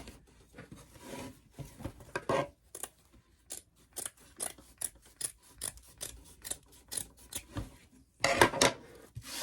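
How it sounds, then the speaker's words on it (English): Scissors snip through burlap fabric close by in a run of short crisp cuts at an uneven rhythm, with a louder rough burst near the end and no talking. "I need to cut enough so I have some extra to wrap around."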